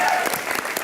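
Studio audience applause at a Hindi comedy show, a short dense burst of clapping heard close and loud, with a voice briefly underneath.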